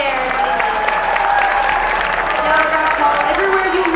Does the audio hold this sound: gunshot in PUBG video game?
no